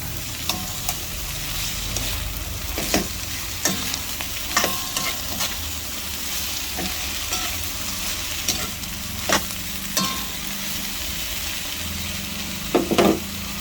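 A spoon stirs sopas, a Filipino macaroni soup, in a pot, giving repeated clinks and scrapes against the metal over a steady sizzling, bubbling bed of cooking noise, with no voices.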